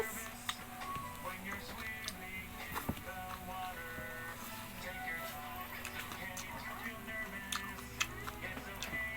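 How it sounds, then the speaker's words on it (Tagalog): Crisp crunching of food being chewed close by, with small sharp clicks repeating through a steady background of music and low talk. "Mangunguya yung ulo. Malutong."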